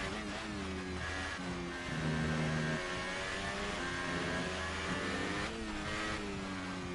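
A McLaren Formula 1 car engine in F1 2018 revs hard and steadily, its tone rising and shifting through gears over several seconds, heard up close and alone.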